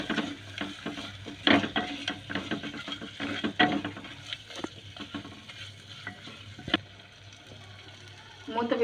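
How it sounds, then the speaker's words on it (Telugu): A spoon stirs coconut powder and a little chili powder into biryani cooking in a clay pot, scraping and knocking steadily over a constant sizzle and frying hiss, close and fairly loud, with no talking. "కొబ్బరి పొడి అండి, కారం, కొద్దిగా కారం వేసుకుంటున్నామండి. కలుపుకుంటున్నామండి."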